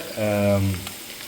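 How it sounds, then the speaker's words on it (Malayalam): Onions sautéing in hot oil in a home kitchen while a mutton curry is being prepared, giving a steady, close sizzle and hiss that runs through the short clip, briefly joined by a low humming, voice-like tone near the start. "നല്ല സബോളയൊക്കെ നല്ല എണ്ണയിൽ കിടന്ന് നല്ല വഴറ്റിയെടുക്കാം"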